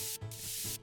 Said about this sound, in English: I have this white noise as well